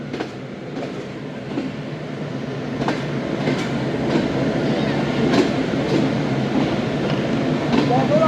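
A long passenger train pulls out of Sahiwal station at dusk, a steady rumble of wheels and cars rolling past with faint clacks and brief squeals, the noise building gently over several seconds.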